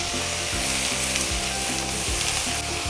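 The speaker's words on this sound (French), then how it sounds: "Une fois que l'oignon est un peu doré, j'ajoute les poivrons et les carottes." Onion, bell peppers and carrots stir-frying in a hot pan, a loud continuous sizzle with rhythmic tossing or stirring strokes repeating about every half second, close up and without talk.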